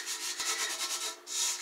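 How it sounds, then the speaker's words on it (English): A copper kettle is scrubbed with a vinegar paste to lift tarnish, giving a steady, close rhythmic rubbing with a brief pause partway through. "You can then get in there and scrub, and it makes a paste, and it takes off"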